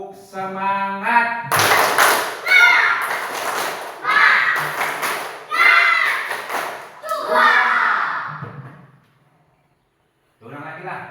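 Schoolchildren in a classroom perform a rhythmic patterned clapping chant, bursts of synchronized claps and thumps in repeated phrases with children's voices chanting along, then a pause before the teacher speaks.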